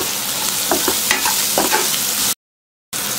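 Onions sautéing in a pan with turmeric and salt, a loud close sizzle with scraping stirring strokes, briefly cut to silence before the sizzling resumes.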